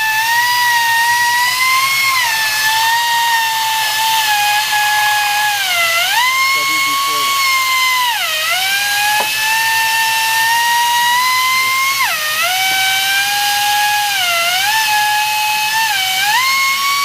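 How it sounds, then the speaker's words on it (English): A high-pitched electric drill whines steadily, its pitch dipping and recovering several times as it bogs under load, loud and close throughout. "This drill doesn't have any fucking speed to it"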